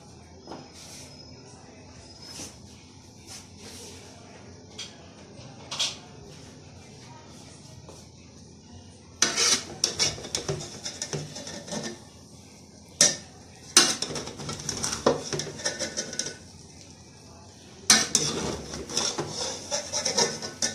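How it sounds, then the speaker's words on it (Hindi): Cooked Pakistani-style biryani rice being mixed in a pot after resting on dum, quiet at first, then several bursts of scraping and rubbing from a spoon against the pot, with brief speech. "अब मैं इसको मिक्स करती हूँ।"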